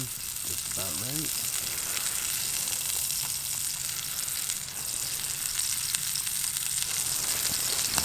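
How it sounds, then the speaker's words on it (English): Steak and bacon sear in a pan over an outdoor winter camp setup, a loud continuous sizzle and crackle filling the whole stretch close up, with no talking. "I'll start getting that sear on that. So we'll have some steak and bacon."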